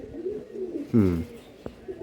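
Pigeons in a loft coo, with one clear, full coo near the middle and softer throaty murmurs around it, close and fairly quiet, over faint background noise.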